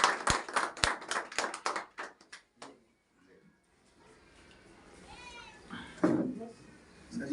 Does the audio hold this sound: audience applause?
yes